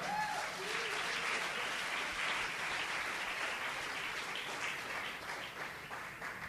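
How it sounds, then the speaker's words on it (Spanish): A church congregation claps in sustained, dense applause that holds steady for several seconds and then eases off slightly, with a brief voice sounding at the very start. "Dale un aplauso de gloria al Señor."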